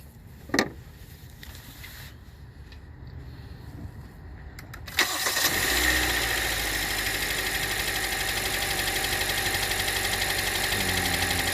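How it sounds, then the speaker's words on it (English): After a brief clatter, a Hyundai Elantra engine with a cylinder misfire fault cranks and catches, then settles into a steady, rumbling idle that continues for several seconds, close by. "We're gonna go start it up"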